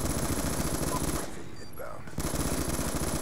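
Rapid automatic gunfire from an unmodified gun in a video game, a loud dense stream of shots that pauses briefly and then resumes.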